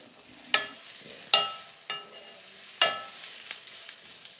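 Onion and celery fry in a pan, a soft steady sizzle broken by a few sharp clinks and stirring scrapes, close and fairly quiet, with no one talking.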